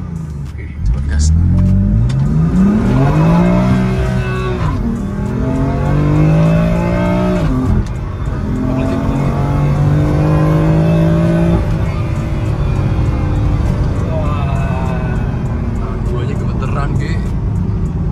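A 2015 BMW M4 engine revs repeatedly from inside the car, its pitch climbing and falling in several surges while people talk and react over it throughout.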